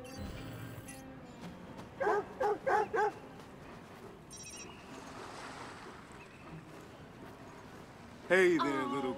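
A dog in Watch Dogs 2 gives a quick run of four yipping barks, then a whimpering whine near the end, heard over ambient game sound with water and waves in the background.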